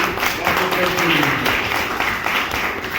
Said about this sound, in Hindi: इसके लिए जोरदार तालियां होना ही चाहिए।